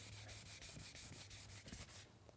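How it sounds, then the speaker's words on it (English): Paint chips on a car body are sanded with 600 grit sandpaper, a quiet, close, rhythmic rasp of rapid back-and-forth strokes that stops after about two seconds. "Since these chips are a little bit more severe, I'm going to have to sand them and feather them in."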